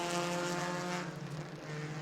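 Race car engines roaring steadily as the cars roll into turn one during heat races at New Smyrna, a loud continuous mechanical drone.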